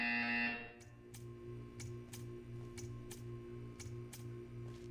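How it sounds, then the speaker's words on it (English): A series of sharp, evenly spaced electronic buzzes from Portal 2 pulses about twice a second after a short tone ends, clean and synthetic. "You will hear a buzzer."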